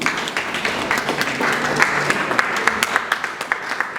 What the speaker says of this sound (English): Can I please clap for him again?